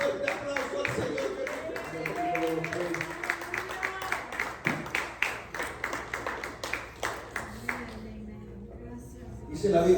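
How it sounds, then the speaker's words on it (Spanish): Congregation in a church clapping for the Lord, a dense steady patter of many hands running for several seconds with voices and a man's speech over it, the claps turning sparser and more distinct near the end. "un fuerte aplauso al Señor"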